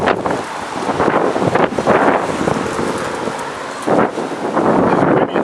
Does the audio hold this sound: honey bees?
no